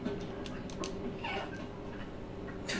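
A cat meows in the video game Stray, with soft, faint cries that come and go over a steady low background hum, fairly distant and quiet.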